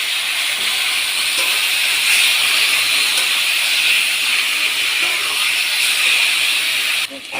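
Taro leaves go into a hot frying pan of jackfruit seeds and spices, raising a steady, broad sizzling hiss that stays even and close throughout.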